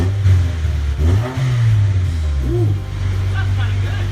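Honda Prelude engine with no muffler revving in a few rising and falling bursts, loud and close, a throaty low drone swooping up and down, with people talking over it.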